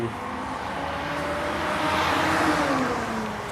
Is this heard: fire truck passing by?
yes